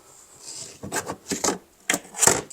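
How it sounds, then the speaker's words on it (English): A plastic fuel pump access cover being pried off a Nissan Murano, heard as a few short scraping and rubbing clicks in quick succession, fairly close and alone. "Now let's pop this cover off."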